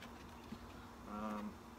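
Honeybees buzzing around an open queen castle hive box, a faint low drone with a brief nearer bee passing close, quiet and without speech.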